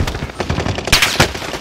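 Automatic gunfire in Call of Duty Warzone on Rebirth Island: loud, close, rapid shots in a dense rattling burst, with a couple of heavier cracks near the end.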